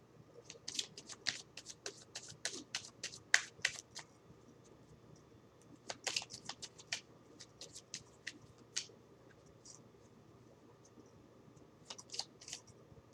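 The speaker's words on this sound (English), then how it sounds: "I'm also shuffling the yes, no, maybe oracle deck" Bursts of oracle cards being riffled and shuffled, a yes/no/maybe deck handled close up in a quiet room, coming in several rapid flurries separated by short pauses.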